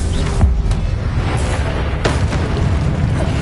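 Confringo blasting spell explosions from Hogwarts Legacy boom loudly in quick succession, with sharp cracks over a dense rumbling roar.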